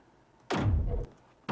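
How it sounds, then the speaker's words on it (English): Bassy reverb echo sound effect made for a video edit, a single deep booming hit that swells and decays over about half a second, then a brief faint tail. "bassy reverb, or almost kind of like an echo."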